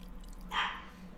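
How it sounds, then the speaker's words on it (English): A dog gives a single short bark, moderately loud and somewhat distant, over a low background hum. "My dog is barking like crazy right now."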